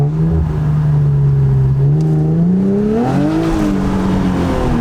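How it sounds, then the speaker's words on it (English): An Infiniti Q50 3.0T with an MBRP aftermarket exhaust downshifts, heard from inside with the windows down: a loud, steady droning exhaust note that rises sharply in a quick rev blip before settling. "Here's the sound of a downshift with the windows down."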